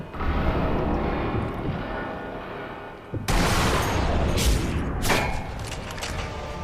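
Sniper rifle shots in the video game Sniper Elite V2, two loud sharp cracks a couple of seconds apart, each with a ringing tail, standing out from a steady background rumble.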